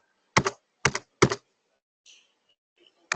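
Three sharp double-clacks of keys pressed on a computer keyboard, closely miked and evenly spaced, followed by a faint softer tap and one more click at the end, in an otherwise quiet room.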